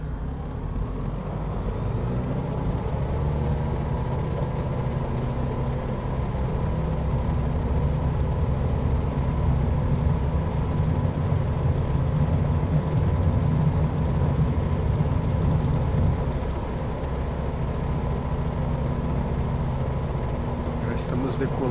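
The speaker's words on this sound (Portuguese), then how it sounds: "Estamos decolando aqui, galera" A small aircraft accelerating for takeoff in Microsoft Flight Simulator 2020 near Boa Vista, Roraima, giving a steady low engine drone that holds loud and constant, with someone talking over it.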